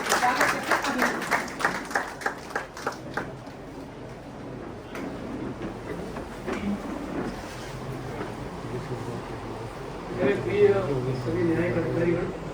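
Audience at a mental health awareness event in a hall applauding to welcome a speaker, with clapping bursts early on that fade into a speaking voice and a background murmur.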